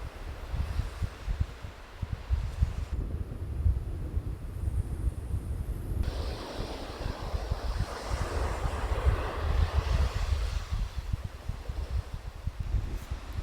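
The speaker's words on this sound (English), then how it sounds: "It is a little windy, so if you're seeing this clip, it means my microphone is doing its job" Wind buffets the microphone on a beach on the coast of Vancouver Island in a continuous low rumble, swelling and easing, with a hiss like distant surf underneath.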